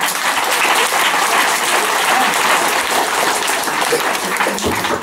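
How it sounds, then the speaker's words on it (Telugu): Sustained audience applause fills a hall at a motivational programme by blind teachers, dense and steady throughout with no talk over it. "సార్ గట్టిగా క్లాప్స్ కొడదాం."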